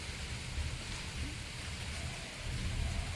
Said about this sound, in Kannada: ಮಳೆ ಬಂತು. ನೋಡಿ ಹನಿ ಬೀಳ್ತಾ ಇದೆ